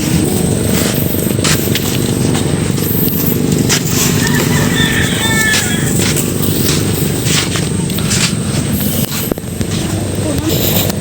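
A motorcycle is ridden with its engine giving a loud, steady, close drone that runs through the whole stretch with little change.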